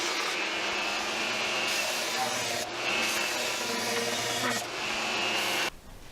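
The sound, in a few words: belt sander sanding wood for a blanket ladder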